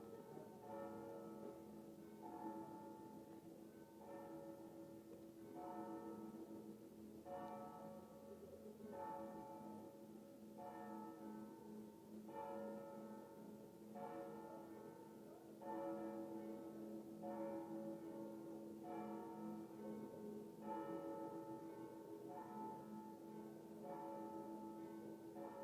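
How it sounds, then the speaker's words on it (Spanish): Church bells ring in a slow repeating pattern, resonant tolls overlapping with long sustained hum, moderately distant and steady for the whole stretch. "me dijeron que iban a sonar las campanas"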